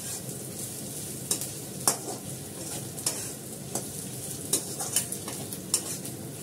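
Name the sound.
stirring food frying in a pan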